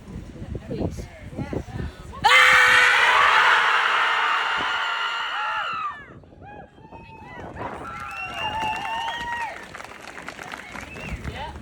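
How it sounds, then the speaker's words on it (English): A rally crowd screams together in one loud sustained roar lasting several seconds, then fades into cheers and scattered shouts outdoors. "So I invite you to scream with me."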